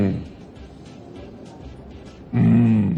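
A person imitates a lion's roar, a short, loud, throaty growl bursting out near the end after a stretch of quieter talk and background murmur in a studio setting.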